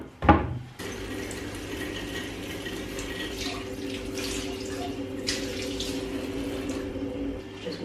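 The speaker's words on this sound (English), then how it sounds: "Just washing my mug because I think I'm gonna have a herbal tea." Water from a kitchen tap runs steadily into a sink while a mug is washed, a continuous close splashing stream with occasional clinks, starting after a brief knock at the beginning.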